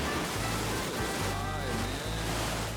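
Iguazu Falls on the Argentine side roars as a dense, continuous wash of falling water, loud and unbroken, with a faint voice briefly in the mix.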